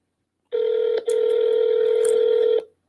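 Telephone call ringing out while waiting for a giveaway winner to pick up: a steady electronic ring tone, loud and close, with one short break near the start, then continuing unbroken with no talk.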